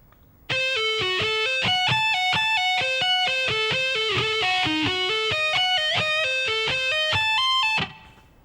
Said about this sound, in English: that whole lick should sound like this at a slow tempo